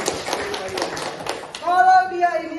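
A school class claps together in a short, fairly quick burst of applause near at hand, and then a voice speaks over it.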